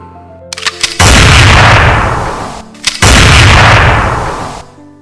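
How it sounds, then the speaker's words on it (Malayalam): Two loud, booming gunshots about two seconds apart, each preceded by quick clicks and followed by a long, rolling echo. "ശ്രാവണിയുടെ കയ്യിലിരുന്ന തോക്ക് തീ തുപ്പുന്നതും ഓടി വന്നവർ പിടഞ്ഞു വീഴുന്നതും കണ്ട് മിലി കണ്ണുകൾ ഇറുക്കെ പൂട്ടിക്കളഞ്ഞു"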